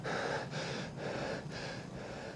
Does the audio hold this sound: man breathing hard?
yes